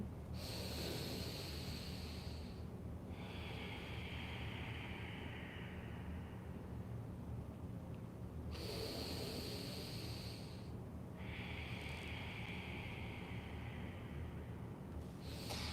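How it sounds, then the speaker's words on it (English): Slow Ujjayi breathing through the nose with a constricted throat makes long hissing inhales and exhales, two full breath cycles close up and steady, with no talking. "Closing the lips, gently constricting the throat, breathing in and out through the nose only."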